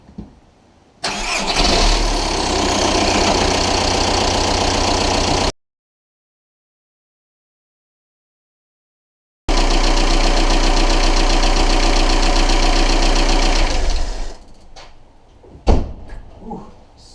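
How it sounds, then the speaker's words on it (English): A VW Golf Mk4 1.9 TDI diesel engine cranks and fires, then runs with a loud, close, gritty clatter for several seconds, stops briefly, restarts and idles roughly before a door closes. "Now we're going to start the engine,"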